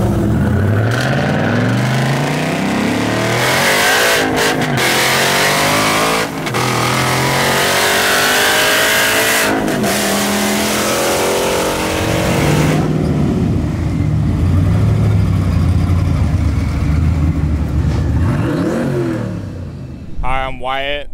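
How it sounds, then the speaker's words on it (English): A Ford Coyote V8 fitted with an Edelbrock 2650 supercharger revs repeatedly at a car cruise, the loud engine rising and falling close by while people talk over it throughout. "Coyote blowing with a Edelbrock 2650 blower in it, and man, it's running great."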